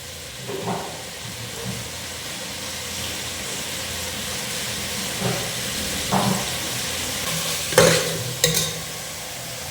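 Half a kilo of pre-boiled beef fries in oil for a potato beef biryani, a steady close sizzle broken by several louder stirring scrapes, with no talking.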